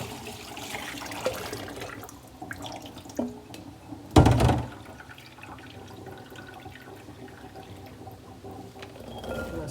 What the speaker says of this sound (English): And then I'm gonna take the strainer and rinse it.